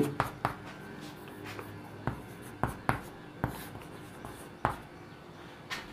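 Chalk or marker strokes on a classroom board during a chemistry lecture: a series of sharp, irregular taps and short scrapes, fairly close, with no talking over them.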